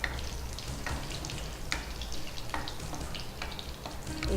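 Crushed garlic and curry leaves frying in a hot oil tempering with mustard seeds and cumin, a steady close sizzle and crackle with a few sharper pops, no talking.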